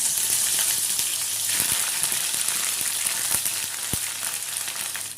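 Ginger-garlic paste spattering in hot oil in a pan for a Bengali egg masala, a dense, close, continuous crackling sizzle with scattered sharp pops, steady and alone without talk.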